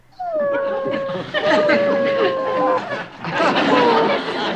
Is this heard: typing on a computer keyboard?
no